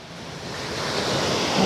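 Ocean waves breaking at Trunk Beach, a close, swelling surf rush building louder over a short stretch, with some wind buffeting the microphone.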